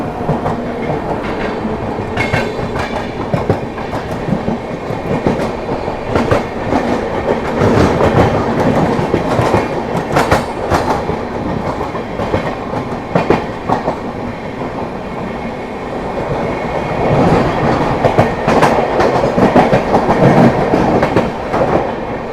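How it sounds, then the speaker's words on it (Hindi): The Odisha Sampark Kranti express crosses close by, a loud, continuous roar of wheels with rhythmic clickety-clack that holds steadily for over twenty seconds without pause. "यहाँ पर फिर से अपने से कोई ट्रेन तो क्रॉस हो रही है, देखते हैं कौन सी है।"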